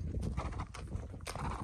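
A pony being ridden, its hooves clip-clopping in a quick uneven rhythm, close but fairly quiet, with a faint whinny-like tone and no clear speech.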